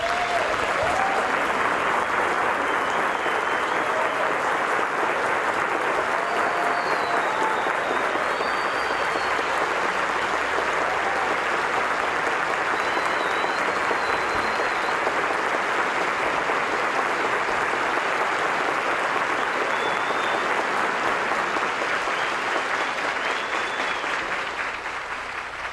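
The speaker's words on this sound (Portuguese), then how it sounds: "pedi que meus colegas aplaudissem as suas famílias" A large audience at a graduation ceremony applauds the graduates' families, a loud, sustained roar of clapping that fills the whole stretch with only a slight fade near the end.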